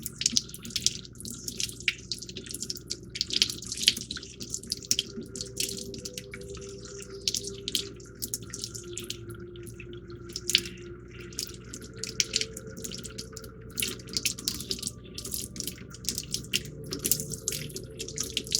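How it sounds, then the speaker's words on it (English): Hot water runs steadily from a tap, rinsing plastic parts of a 1:48 scale Panavia Tornado model kit in a sink, a continuous close splashing hiss with small drips throughout. "why don't we go ahead with some hot water. We're going to rinse off the parts"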